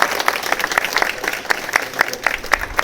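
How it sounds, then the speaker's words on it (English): Wedding guests give a round of applause for the bridesmaids and groomsmen at the ceremony, steady moderate clapping from a crowd with distinct individual claps, heard somewhat at a distance. "Can we get a round of applause for the bridesmaids and the groomsmen?"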